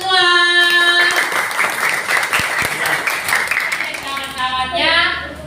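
A classroom group applauds together in a dense, steady burst of clapping, with voices calling out at the start and end.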